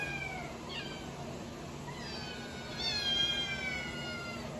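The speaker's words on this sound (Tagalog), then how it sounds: "Yan yung mga pusa po namin." House cats meow several times in a row, some calls long and rising, against a steady background hum.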